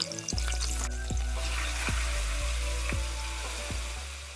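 Green chilli and ginger garlic paste sautéing in a pan for navratan korma, a steady close sizzle with a few sharp spoon scrapes at regular intervals over a low constant hum.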